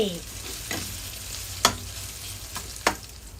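Northern Thai khao soi chili paste stir-fried in a pan gives a steady close sizzle, broken by a few sharp scrapes and clicks of the utensil against the pan, with no talking.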